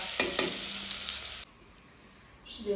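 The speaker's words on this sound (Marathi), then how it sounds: "आता ही हिरवी मिरची आणि लसणाची कणा चांगली फुडणी अशी द्यायची मिरच्या चांगल्या तळू द्यायच्या" Green chilies and garlic fry in hot oil, giving a bright, close sizzle with a couple of stirring knocks, then it drops sharply to a faint hiss before a few small crackles return.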